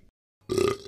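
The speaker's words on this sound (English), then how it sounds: "How is you burping my fault?" A single loud, close burp rises abruptly after a moment of near silence, with no talk over it.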